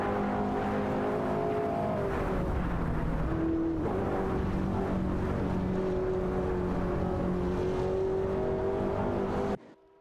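A Pagani Zonda F and a Ferrari F12 TdF fight for position in a racing video game, engines droning and revving steadily at close range with a pitch dip midway, cutting off abruptly at the end.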